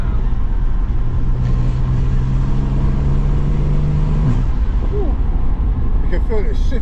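BMW 335i convertible accelerating in sports mode: engine note rising steadily with a gear shift around the middle, then pulling on, under road and wind noise.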